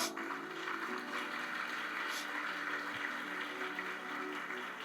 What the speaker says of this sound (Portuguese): Levanta, mãe, passar uma de palmas para ela